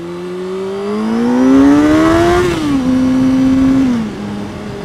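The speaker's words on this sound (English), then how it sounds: "That acceleration, man." Sport motorcycle accelerating hard nearby, its engine note climbing steadily in pitch through the gears with a shift dip, loud and close with no talk.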